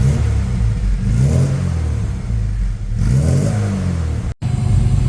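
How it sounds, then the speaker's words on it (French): An Austin Mini's small engine revs up twice in short blips of throttle, rising and falling loudly up close, then settles back to a steady idle. "le proprio il va nous mettre un petit coup de gaz pour que vous entendiez le bruit"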